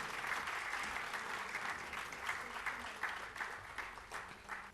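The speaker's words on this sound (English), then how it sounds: "A huge round of applause for them." An audience at a decade-milestone celebration applauds a production team called onto the stage, a full, even wash of clapping from a large crowd, held steadily throughout.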